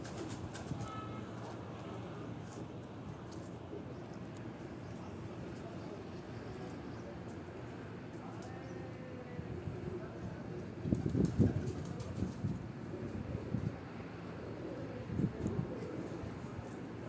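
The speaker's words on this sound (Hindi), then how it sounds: "इसके पीछे अगर आप देखें तो एक कबूतर भी है, बड़ा कबूतर भी साथ आ रहा है" Pigeons near a rooftop off Rawat Chak Beli Road, heard as faint, scattered cooing and fluttering bursts over a steady low outdoor rumble, with a few louder clusters toward the end.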